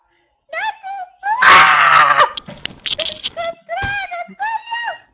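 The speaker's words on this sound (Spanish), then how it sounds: "Te escucho gritar." A person screams and wails loudly in an online video chat, with a long, intense cry near the middle followed by moaning, whimpering calls and other voices talking in between.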